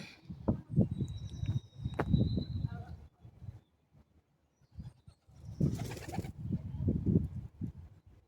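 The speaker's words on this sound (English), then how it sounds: "Pigeons are trying to photobomb my arty shots." Pigeons coo in soft, rhythmic bursts close by beside a riverside quay, with brief wing flaps between the calls and a person speaking faintly nearby.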